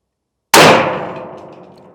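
A bolt-action rifle fires a single loud shot at a range, the last of a three-round zeroing group, a sharp crack that rings and decays over a second and a half.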